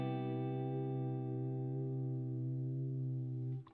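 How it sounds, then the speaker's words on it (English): An electric guitar runs through a univibe-style pedal preset set to light vibrato, sounding as a single sustained chord that rings evenly with a gentle wavering shimmer. It cuts off abruptly just before the end. "I've got sort of like a univibe sort of thing"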